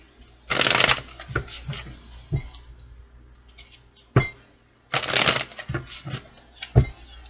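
A tarot card deck is shuffled in two brisk riffling bursts, each followed by softer taps and clicks as the cards settle, close and crisp with no talking.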